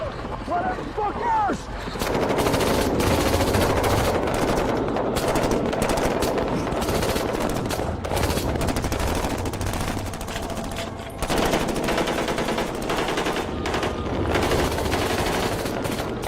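Heavy machine gun fire in a combat firefight, loud sustained bursts of rapid shots that run almost without a break, with shouting voices in the middle of the barrage.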